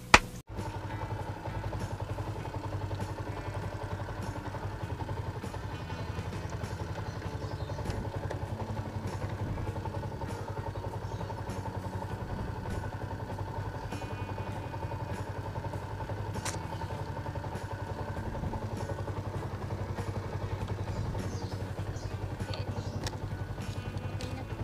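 Angkas motorcycle taxi riding through city traffic from Cubao toward Antipolo, a steady close engine drone with road rumble and occasional clatter, no talking.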